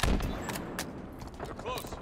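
Gunfire in Halo Infinite team deathmatch, a few sharp shots rising out of a busy game mix with a faint voice underneath.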